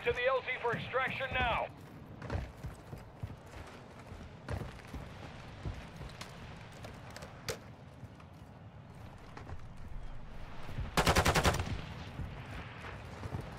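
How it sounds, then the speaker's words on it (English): Gunfire in the Call of Duty DMZ video game: scattered single shots crack through a quiet stretch, then a rapid automatic burst near the end, with a voice heard briefly at the start. "I'm just shooting in the air at this point."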